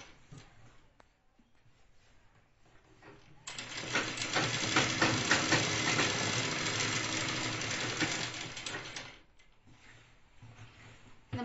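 A sewing machine stitches a folded hem on a chudidar top, running steadily with a continuous close whirring hum for several seconds before stopping. Quieter handling sounds come before and after the run.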